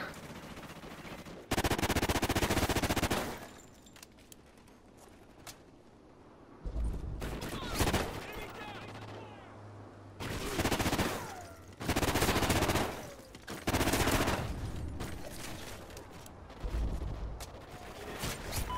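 Gunfire from a gun in the shooter game Call of Duty: Ghosts comes in loud, rapid automatic bursts separated by quieter stretches, with several sprays of shots in close succession.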